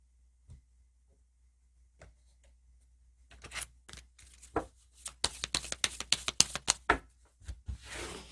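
A tarot message card is drawn from the deck: faint soft taps at first, then a quick series of crisp card shuffling and flicking snaps, close and increasingly busy.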